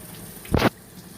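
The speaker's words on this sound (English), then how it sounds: "you can actually work some of the BM and dust out with the sprayer" A brief, close burst of spray water rinsing mohair Angora goat fiber laid out flat, a single hissing gush lasting about a second, alone.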